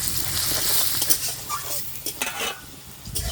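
Chopped onions fry with salt in a pan, sizzling close and steady while a utensil stirs and scrapes through them in quick bursts.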